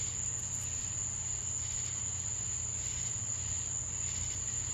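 Crickets chirping in a steady, continuous high-pitched trill that holds at an even level throughout, with a low background hum beneath and no voices.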